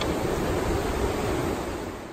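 French Broad River near Hot Springs flowing steadily, a dense, even wash of white-noise water rushing close by with no voices, holding constant before easing slightly at the end.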